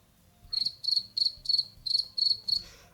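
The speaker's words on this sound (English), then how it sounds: "That is another perfectly timed cricket noise." Seven evenly spaced cricket chirps, each a short trill, sound close and clear over a faint low background hum with no talking.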